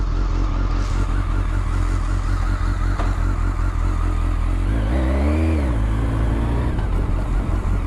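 A 2008 BMW K1200S motorcycle ridden down a road, its engine droning steadily and loudly up close, with a rising rev and shift around the middle amid constant wind and road noise.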